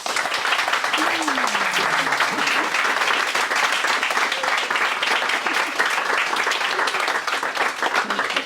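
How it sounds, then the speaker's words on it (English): Warm audience applause at a podcast launch event, continuous dense clapping from a sizeable crowd lasting several seconds, with a few voices and a brief whoop rising through it. "Can we have a round of applause?"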